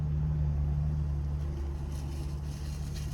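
Steady low rumble of road traffic with a constant engine hum, continuous and fairly close, with no voices.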